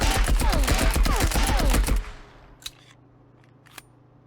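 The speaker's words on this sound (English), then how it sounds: "MP40. Hip firing, no recoil control. Hip firing with recoil control." MP40 submachine gun hip-fired in the video game Marauders, a loud, close rapid burst of about two seconds of continuous automatic fire, then a ringing tail and two faint, distant clicks.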